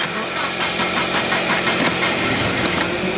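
A forklift with a rotary engine runs steadily and loud, a rough mechanical idle with a rapid knocking pulse that holds throughout, close up and with no voices.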